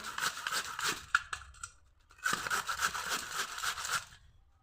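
Potato and radish being grated by hand, two bursts of rapid rhythmic scraping strokes separated by a short pause, close and moderately quiet.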